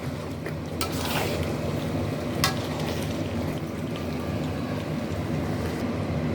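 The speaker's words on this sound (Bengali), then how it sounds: "আলুগুলো দিয়ে দেবো আলুটা দিয়ে ভালোভাবে কষিয়ে নেবো আরও পাঁচ মিনিট" Potatoes fry in a spice paste for vegetarian aloo dum, a steady close sizzle with occasional scrapes and knocks of stirring.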